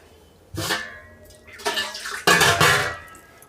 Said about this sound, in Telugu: నీళ్ళు 1 చెంబుడు నీళ్ళు పోసేసుకోవాలండి